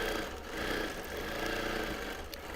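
A Bernina sewing machine stitches a quilt in a linen blend with polyester thread, giving a soft, steady whirring hum with fine rapid ticking, quiet and continuous with no voices.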